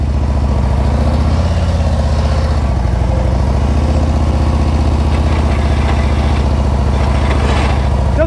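A motorcycle engine runs steadily at low speed during slow riding practice, a close, constant low thrum that stays even throughout.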